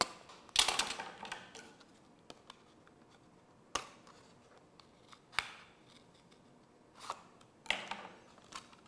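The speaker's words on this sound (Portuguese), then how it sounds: "Vou fazer um pequeno furo em cada traça, em cada risco, para depois colocar a tesoura." Scissors snipping small holes in paper traced for a paper rocket craft, a few separate crisp cuts and rustles spaced several seconds apart, close and fairly quiet in an otherwise still room.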